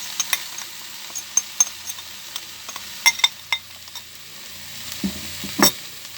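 Curry powder and turmeric frying in a pan for a prawn curry, a soft steady sizzle broken by scraping stirs and sharp clicks of a utensil against the pan, close and without speech.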